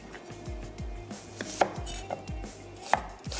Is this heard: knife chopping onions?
yes